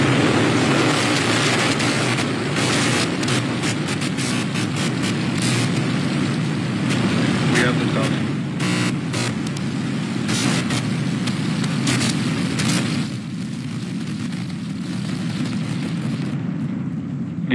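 The SpaceX mega rocket lifts off on its fourth test flight from Texas, a loud, sustained roar with crackling bursts that rumbles on for many seconds before easing slightly near the end.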